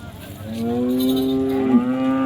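A single long, loud moo from a pure-bred HF cow at a cattle market, with a steady pitch that dips sharply near the end, heard clearly and close by.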